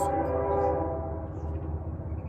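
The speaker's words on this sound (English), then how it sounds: "it's a train going by." A train rumbles past, a loud, steady roar with a sustained horn-like tone over it, easing slightly as it goes by.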